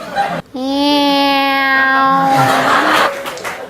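A person imitates a cat with a long, drawn-out, wavering meow, loud and close, sliding slightly in pitch before breaking off.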